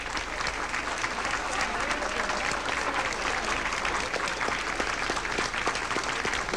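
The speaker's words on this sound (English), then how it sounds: "Even the Democrats are clapping." A crowd applauding President Gerald Ford in 1975, steady dense clapping from many hands that fills the space evenly throughout, with faint voices mixed in.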